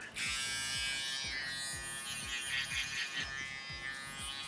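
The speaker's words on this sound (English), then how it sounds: "So now I'm using my shaver" Electric shaver buzzing steadily at close range while blending a short beard up into the sideburn at a barbershop, with repeated rhythmic low scraping strokes against the skin throughout.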